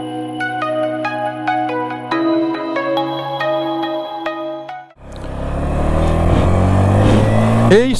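A melodic chime tune plays for several seconds, then a CFMOTO Papio 125 motorcycle engine starts and revs up, pulling away loudly with rising pitch.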